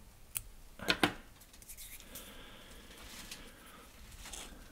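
Scissors snip off excess thread while a fishing fly is being tied, giving two quick close crisp cuts about a second apart, then a faint soft rustle of handling with no speech.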